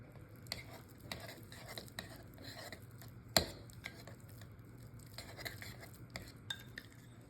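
Garlic, olive oil and butter being stirred together in a bowl, with soft scraping and occasional sharp utensil clinks against the dish, one louder clack near the middle, no talking.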